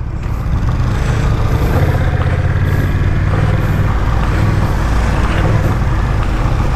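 A Honda Rebel 1100 DCT motorcycle with a 270-degree crank runs at a steady idle, its low, throbbing engine rumble loud and close, with no voices.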